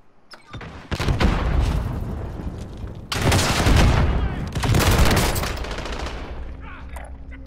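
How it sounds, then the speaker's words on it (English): Loud in-game combat from Call of Duty: Modern Warfare, with a rocket explosion and heavy bursts of gunfire in three dense, booming waves. Brief lulls fall between the waves, and the last one fades out. "I hit him with a fucking rocket"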